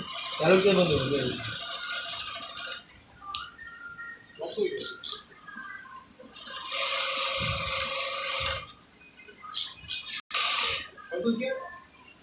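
Flat lock (overlock) sewing machine stitching fabric, its motor whirring in steady bursts with pauses between runs, fairly close, mixed with clicking mechanism noises and brief background sounds.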